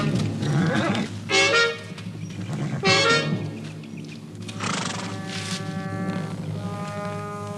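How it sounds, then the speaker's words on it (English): A horse on a Western ranch neighs in several loud whinnying bursts, near and strained, over steady background sound with faint hoof movement. "Whose horse is that?"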